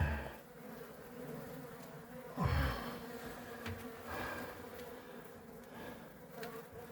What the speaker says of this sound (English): Lovely little bees.